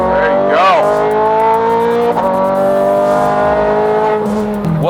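A Ferrari 430 Scuderia on a racetrack trail brakes into a corner, its loud, close engine note dropping and swooping through downshifts before climbing back, with a brief tire squeal and a voice talking over it.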